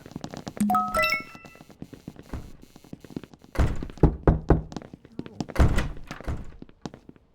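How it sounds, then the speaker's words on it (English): A door is locked in a video game with a sequence of heavy mechanical thunks and clunks, loud and close. Bright chiming tones come early, and voices are heard in between. "I'm locking this door to stop people like you getting in here."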